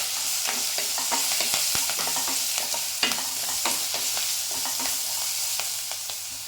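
Green chillies frying and being stirred in a pan for potato masala to go with poori, a steady close sizzle with repeated clinks and scrapes of a spoon against the pan throughout.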